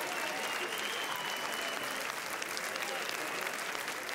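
Sustained, dense applause fills the huge Grand Théâtre Lumière at the Cannes film festival premiere of a Lars von Trier film, a steady roar of clapping with crowd noise and faint voices beneath.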